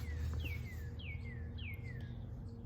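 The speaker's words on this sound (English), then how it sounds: "hear the warble of the wild wood birds" Woodland birds in a forest sing three clear, descending whistled phrases at an even pace, moderately close, over a low steady background hum.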